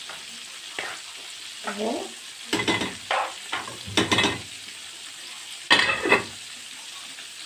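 Rice stirred in a cooking pot at home, with several separate scraping strokes of a spoon against the pot over a faint sizzle, interspersed with brief talk.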